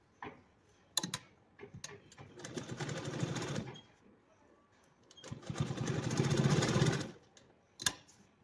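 A sewing machine stitches cloth for a kalash in two steady runs of rapid mechanical whirring, each lasting a couple of seconds, separated by quiet handling clicks and fabric shuffling.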